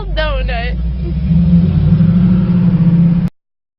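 A 1969 Chevrolet Camaro spinning a donut, its engine holding a steady loud rev and rumble for about three seconds before cutting off abruptly, with a brief voice near the start.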